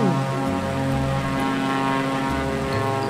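A Red Bull propeller aircraft engine drones steadily and loudly in Microsoft Flight Simulator 2020, its pitch shifting slightly as the plane maneuvers.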